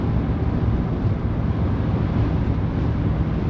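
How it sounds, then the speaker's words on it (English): Steady, heavy wind buffets the microphone of a BMW 335i, producing a continuous low roaring rumble with no other clear sounds. "But it is super windy out here."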